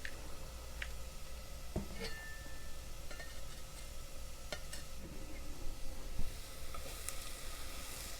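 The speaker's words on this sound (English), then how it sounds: "we're throwing that garlic in with the onion, which by now is translucent" Pressed garlic hits a pan with translucent onion in oil, raising a steady moderate sizzle with small crackles and a faint utensil tick or two, no voices over it.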